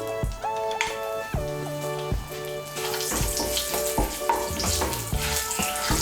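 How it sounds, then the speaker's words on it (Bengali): Bay leaf, cardamom, cloves and a piece of cinnamon sizzling in hot oil, a continuous crackling hiss that grows brighter and busier midway, with soft music playing underneath. "এর মধ্যে আমি দিয়ে দিচ্ছি একটা তেজপাতা, দিয়ে দিচ্ছি গোটা গরম মশলা"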